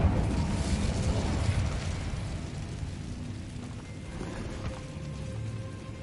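A fire spell cast in the Hogwarts Legacy video game, a loud rumbling roar of flames that bursts at the start and then settles into a steady, crackling burn for several seconds, heard alone.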